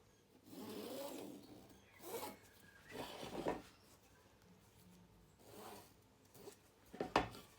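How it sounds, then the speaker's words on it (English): Scissors cut through sheet material for a DIY mealworm farm box, with several separate soft snipping and rustling strokes, quiet and close, with pauses between them. "So now we'll cut it just using scissors"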